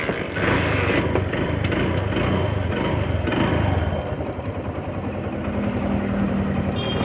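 A TVS Sport motorcycle starts up after a choke cable repair and settles into a running idle. The engine sounds close and continuous, with a rougher burst early on before it eases into a steadier putter.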